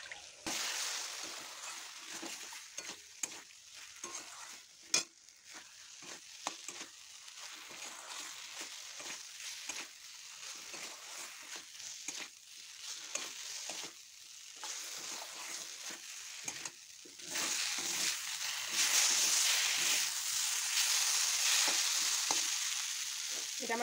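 Dhoka (lentil cake) curry with coconut sautéing in a pan, a steady sizzle broken by frequent scraping stirs that grows louder and more continuous toward the end, with no talking.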